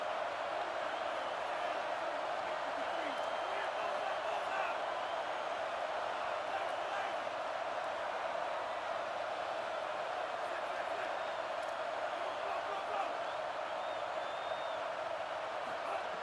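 Stadium crowd noise in a college football video game, a continuous roar of a large crowd that stays loud and even throughout, with no distinct cheers standing out.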